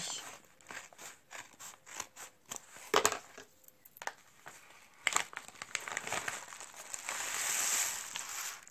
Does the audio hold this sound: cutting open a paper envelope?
yes